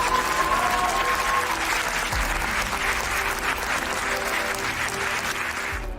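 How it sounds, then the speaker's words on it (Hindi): A live evening stage event audience in Bhopal breaks into loud, sustained applause, a dense wash of clapping that fills the hall steadily for several seconds with a faint tone briefly audible underneath. "नाम लेते ही पहली पंक्ति से अंतिम पंक्ति तक उसके सम्मान में तालियां बजेंगी।"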